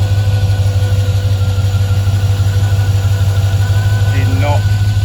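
A car engine idles steadily with a strong low hum and constant vibration, loud and close from under the bonnet, and it runs on alone the whole time.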